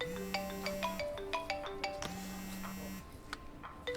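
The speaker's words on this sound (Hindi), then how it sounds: "फोन बजना बंद होंगे।" A phone rings indoors with a repeating electronic tone pattern in two bursts separated by a short pause, moderately loud and close, with no speech over it.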